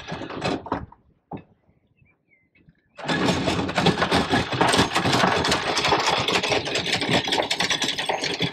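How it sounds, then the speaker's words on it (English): An outboard motor on a sailing boat starts after a few brief knocks and short silence, then runs steadily and loud for the rest of the clip. "The motor is working, yeah?"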